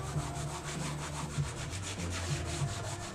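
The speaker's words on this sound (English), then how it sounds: "buffing the pulp off" Paper pulp being buffed off an ink transfer on beeswax makes a steady, close, dry rubbing hiss with a fast back-and-forth scrubbing rhythm and no pauses.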